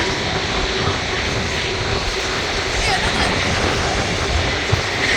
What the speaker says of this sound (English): there's a Virgin Atlantic A330 right behind it.